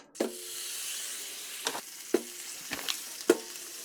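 Tuna sizzles in ghee on an electric griddle, a steady frying hiss broken by a few sharp spatter pops and scrapes, close and moderately quiet, with no talking.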